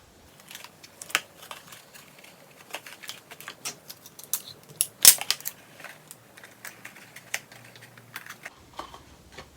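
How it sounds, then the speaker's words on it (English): Clear tape is torn and pressed onto the folded-in flaps of a paper activity cube, producing many sharp crackles and ticks at close range along with one louder snap. "And then you just fold in the flaps and tape those as well."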